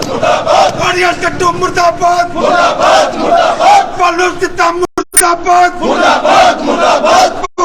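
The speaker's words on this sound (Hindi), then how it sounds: "यहाँ बिजली विभाग के जो कर्मचारी हैं वो प्रदर्शन कर रहे हैं एक्शन ऑफिस के बाहर" Electricity department employees protest outside an office, a loud crowd chanting slogans in rhythmic, repeated bursts of shouting voices, close and continuous with a brief break.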